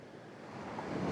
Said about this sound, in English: look out there at the Pacific Ocean